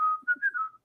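A person whistles a short wavering tune close up, one sustained bending note followed by a few quick rising and falling turns before stopping.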